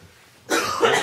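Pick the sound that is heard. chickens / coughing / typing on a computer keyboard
coughing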